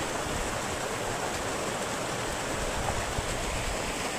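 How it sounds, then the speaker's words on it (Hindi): A small mountain waterfall stream pours cold water in a steady, dense rush, close and continuous, with no voices. "यहाँ से है ना झरना सा आ रहा था नीचे की तरफ"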